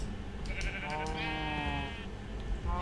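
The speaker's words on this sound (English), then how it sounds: "Okay, now I have sheep everywhere." Sheep bleat in Minecraft: a short bleat, then a longer, wavering one, with a faint start of another at the end, all over quiet background game sound.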